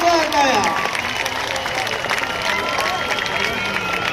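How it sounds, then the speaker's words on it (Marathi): A large crowd applauds steadily to welcome a singer at a Bhimgeet concert for Dr. Babasaheb Ambedkar's birth anniversary, with dense clapping and cheering and faint voices mixed in throughout. "जरा जोरदार टाळ्या"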